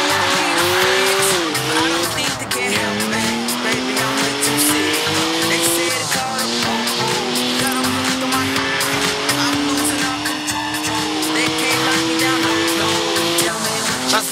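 A BMW's tires squealing and skidding in Forza Horizon 4, a loud sustained screech rising and sliding in pitch over a roaring engine throughout, with voices talking over it.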